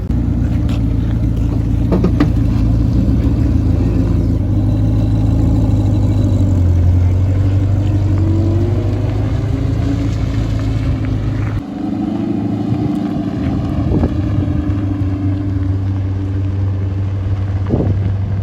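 A Porsche 997 at a car meet rumbles steadily at close range, its engine note loud and sustained, then shifting and fading slightly as the car pulls away.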